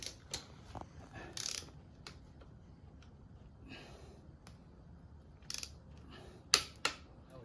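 A preset torque wrench tightening the rear wheel bolts on a 2014 Yamaha Bolt 950cc motorcycle, heard as a few close, quiet ratcheting clicks and short bursts scattered among soft workshop handling noises.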